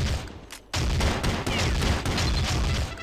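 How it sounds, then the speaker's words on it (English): Shotgun blasts in Counter Strike Condition Zero, preceded by a quieter lull, then a loud burst of close gunfire with several sharp reports continuing over about three seconds. "I got a shotgun kill."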